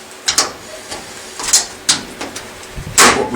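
A vacuum system runs during cleaning of Cremina espresso machine heating element parts, heard as a series of short, fairly loud hissing bursts with quiet gaps in between.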